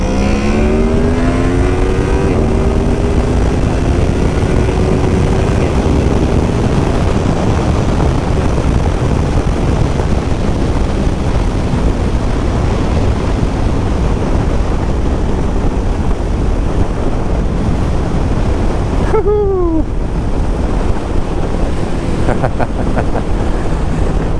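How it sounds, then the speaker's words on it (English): Loud, constant wind roar buffets the microphone, a steady rushing blast with a motorcycle engine pitch rising briefly underneath, riding at speed on a winter ride. "It's far too windy at them speeds."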